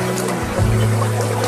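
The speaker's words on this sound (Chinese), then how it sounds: "还有溪水流水的声音" A shallow forest creek beside a quiet, remote cabin trickles and flows steadily nearby, a brief close wash of running water with no voices.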